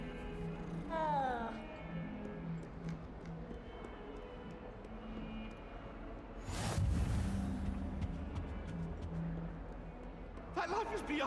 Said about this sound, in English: Hey, little kitty.